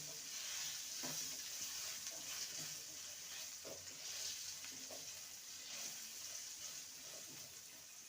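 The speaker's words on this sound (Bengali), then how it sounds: "আলুটাকে দু মিনিট ভেজে নেব" Potatoes fry with turmeric and salt in a quiet, constant sizzle of hot oil, with faint stirring taps and scrapes at intervals; the whole scene is soft and close.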